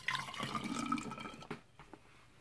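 Hydrogen peroxide trickles through a funnel into a container, a soft liquid gurgle and pour that fades out into a few faint drips, quiet and close, with no talking.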